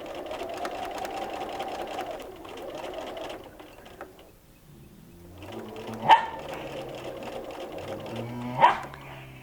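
A sewing machine hums steadily while stitching quilt fabric over pins, pausing, then running again at a slower pace, with two sharp dog barks breaking through nearby.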